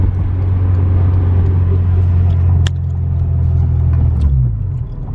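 Engine roar of an EK Honda Civic with a swapped K24, a steady loud drone throughout that holds level for several seconds before easing off near the end, heard from inside the car.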